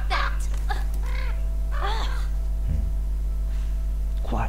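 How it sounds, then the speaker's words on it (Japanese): Crow caws in the horror video game The Quarry, several harsh calls in short bursts over a steady low game hum, with a loud thud near the end. "カラス。 カラス。"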